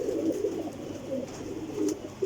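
Pigeons, a batch of flying kabootar, coo softly in a low repeated rolling pattern, three or four murmuring phrases close by over a faint steady background hiss.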